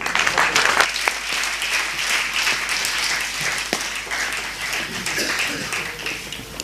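An audience at a keynote talk on Ayurveda breaks into sustained applause, a dense wash of many hands clapping at steady volume throughout.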